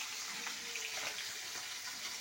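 Pieces of rui fish frying in hot oil give a steady, close sizzle with a bright hiss that holds at an even level and never lets up.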